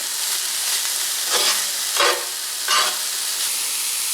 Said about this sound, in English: And now I'm going to add my entire bag of cabbage. And give that a stir.